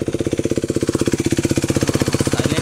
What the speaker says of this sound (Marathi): स्टार्ट तर झाली आपली गाडी.